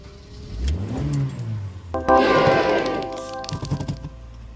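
A 2009 Honda Fit engine cranking in clear flood mode, with a rising and falling starter whine before the engine catches and settles into a steady running note, close and fairly loud.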